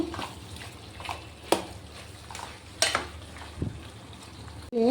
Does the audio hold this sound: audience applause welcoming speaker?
no